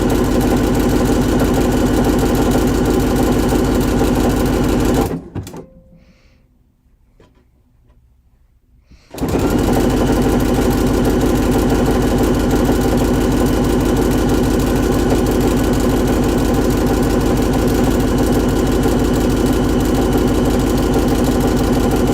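Sewing machine sewing around a curve on a pants-and-sweater ensemble, a loud, close, steady motor drone that stops for about four seconds of near silence, then resumes and runs evenly to the end.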